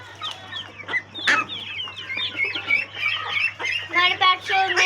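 Desi and Aseel chicks and hens on a farm give dense, overlapping clucks and chirps, near and lively throughout, with a steady low hum underneath.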